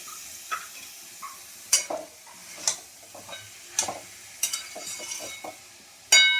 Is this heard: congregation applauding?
no